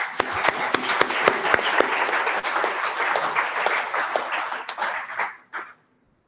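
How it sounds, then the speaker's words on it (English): Guests at an awards gala dinner applaud, a full burst of clapping with a few sharp close claps standing out, sustained for about five seconds before fading quickly to silence. "So let us give him a round of applause."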